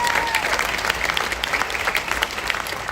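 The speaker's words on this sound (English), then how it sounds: "Give him a round of applause." Audience applause at a live panel event in Anne Lake, Texas, a dense steady patter of clapping from a crowd lasting throughout, fairly close and loud.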